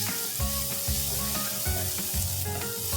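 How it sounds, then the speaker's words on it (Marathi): Chickpea filling with chili powder, garam masala and coriander powder sautés in a pan, giving a loud steady sizzle with rhythmic scraping strokes of stirring close by. "अजून एक 5 मिनिटं आपण छान परतून घेऊया मसाल्यांसोबत।"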